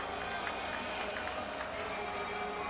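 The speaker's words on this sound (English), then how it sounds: "Gets the approval from the crowd." A football stadium crowd at an arena football game makes a distant, steady roar of approving cheers, faint and continuous without distinct peaks.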